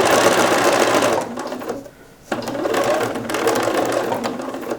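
A sewing machine stitches a seam on a bias cut dress, a loud close whirring run that stops briefly for a second before resuming steadily, with no talking.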